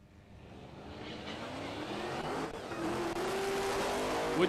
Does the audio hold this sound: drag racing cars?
yes